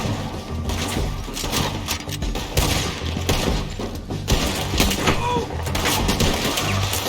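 Dense gunfire crackles through a Red Dead Redemption 2 shootout, near-continuous volleys of shots layered over one another at steady loudness for the whole stretch, with shouting voices mixed in.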